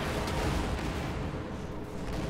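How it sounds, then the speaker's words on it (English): Dense, sustained rumble of explosive blasts from a bomb strike in the World War II strategy game Company of Heroes 2, a loud continuous wash of booms and heavy fire with no clear gaps. "Nice bomb strike."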